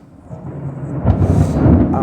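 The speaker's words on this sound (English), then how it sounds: "Quite a few lightning strikes, so I thought I'd film a bit of lightning." Thunder from lightning strikes during a wet-season storm at an airport in Darwin rumbles in from a distance, building after a quiet start into a loud, sustained low roll.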